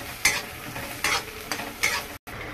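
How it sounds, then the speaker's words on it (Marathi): Garlic roasts with onion in a hot kadhai for chicken masala, with three distinct scraping strokes of a spatula against the pan over a steady low sizzle, close and clear. "आता या कांद्यामध्येच लसूण भाजून घेते।"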